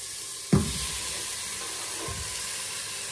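Beef dropped into a hot pot of curry chutney, with a sudden sizzle burst that settles into steady close frying hiss, and a second softer stir-like thump later.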